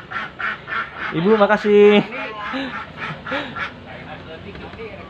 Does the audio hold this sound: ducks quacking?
yes